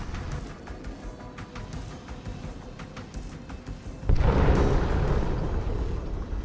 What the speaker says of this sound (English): Wasn't as big as explosion as I thought.